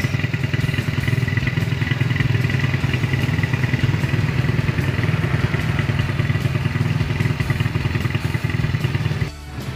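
A Honda Astrea motorcycle fitted with a 52.4 mm Vario 125 piston in a standard-liner cylinder block runs steadily and loudly up close, a rapid, even clattering putter that holds for several seconds before cutting off near the end.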